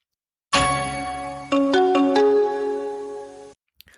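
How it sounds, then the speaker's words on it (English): The Intel Inside electronic jingle, a few crisp ascending notes, with a sustained chord that rings on for about two seconds before cutting off. "that, of course, was the Intel Inside"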